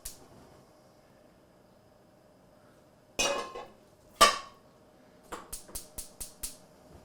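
Pans being set out on a stove for cooking tacos: a few scattered metallic clanks and knocks, then a quick run of six light, evenly spaced clinks, close by in an otherwise quiet kitchen with no talking.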